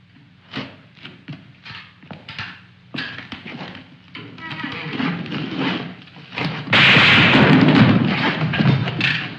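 A rapid series of sharp gunshots and thuds builds into a dense, loud barrage of fire, with rumbling noise swelling near the end.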